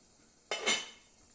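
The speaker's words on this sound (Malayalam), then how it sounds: "അടപ്പ് തുറന്ന്" Metal lid lifted off an idli steamer pot holding lemon pickle on the stove: a single brief metallic clatter and scrape, close and fairly crisp, in an otherwise quiet kitchen.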